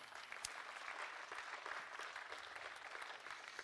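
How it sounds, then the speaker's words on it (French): Quiet, distant round of applause for a prize winner at a web awards ceremony, an even wash of many hands clapping steadily throughout with no talk. "On l'applaudit."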